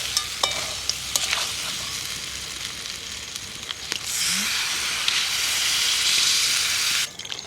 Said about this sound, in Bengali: জল দিয়ে নেড়েছে নিলাম